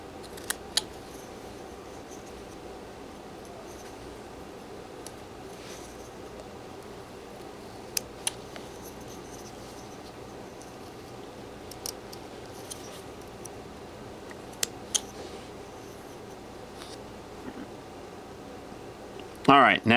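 A knife whittling a wood carving of a Golden Retriever, producing faint, sparse ticks and small scraping cuts scattered over a quiet, steady background.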